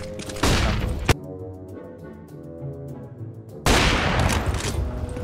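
Gunfire in the video game CS:GO comes in two loud, close bursts with a ringing, tonal lull between them, and the second volley is sustained and heavy.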